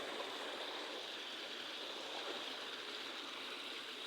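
A stream flows near a concrete culvert at a construction site, a constant broad rush of water that holds at an even level with no voices.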